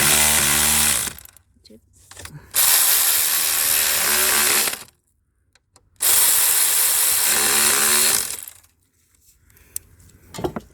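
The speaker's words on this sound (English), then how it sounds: "you're gonna use your ratchet, your electric gun" Electric ratchet gun tightening a bolt on a car engine during EGR valve and throttle body service, buzzing in two long close bursts separated by pauses, with a brief spoken comment near the end.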